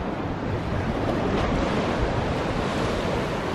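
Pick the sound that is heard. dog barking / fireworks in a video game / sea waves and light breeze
sea waves and light breeze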